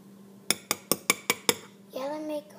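A spoon clinks six times in quick, even succession against a personal coffee maker while coffee is spooned in, each strike bright and close; a voice follows.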